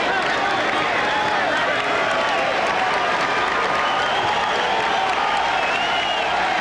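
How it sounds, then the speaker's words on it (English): Basketball arena crowd during a 1994 playoff game between Houston and Phoenix, loud steady cheering and applause filling the space as a team rallies, with an announcer talking over it. "Now the crowd getting into it."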